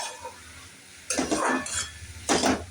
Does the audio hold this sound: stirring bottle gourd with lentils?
yes